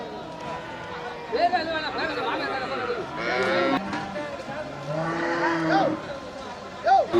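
Several head of cattle at the bustling Melur cattle market moo in drawn-out calls, some near and some farther off, over a background of people talking.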